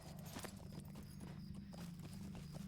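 Horse hooves clip-clopping at a steady riding pace in the online game The Lord of the Rings Online, a continuous rhythmic clatter heard alone and fairly close throughout.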